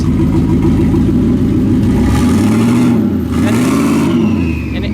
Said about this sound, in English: Now just hold your foot on the brake really hard and then give it gas.